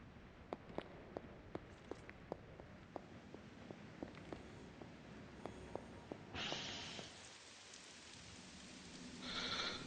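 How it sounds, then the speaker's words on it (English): Faint, steady rain in the video game Marvel's Midnight Suns patters alongside regular tapping drops, later joined by brief swells of hissing noise. "The cool rain."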